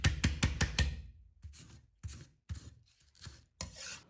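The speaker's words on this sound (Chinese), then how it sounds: "斜刀片成大片" A kitchen knife slices angled pieces from a napa cabbage stalk on a cutting board, with a quick run of crisp cuts followed by slower, spaced strokes and scraping, close and quiet.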